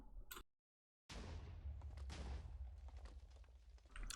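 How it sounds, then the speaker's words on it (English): A cannon fires in a Minecraft Race For Wool match, with a short cut of silence followed by a loud, sustained rumbling blast of explosions that stays heavy for several seconds. "Let's watch this cannon go off."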